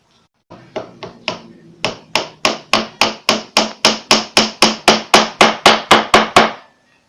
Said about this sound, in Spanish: recuerden colocar su sierra al ras del listón. Corten poco a poco